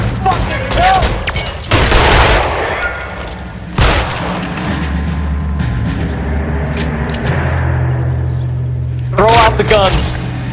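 Bursts of gunfire and sharp cracks in an LA Noire shootout, loud shots clustered at several moments over a constant rumbling backdrop, with shouting voices between the volleys.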